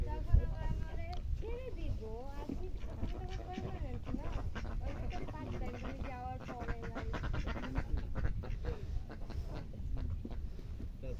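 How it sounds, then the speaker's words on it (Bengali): Ducks, a drake among several females, quack near the water where ships pass, their calls blending under a man's steady, close talking throughout. "এই একটা বেটা হাঁস সব বেটি হাঁস"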